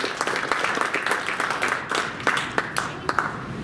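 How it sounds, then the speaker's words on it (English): An audience applauds a panel and moderator at a design event, a brisk patter of individual claps from a modest crowd, fairly close and even, thinning a little toward the end. "Let's give our panel and our moderator a round of applause"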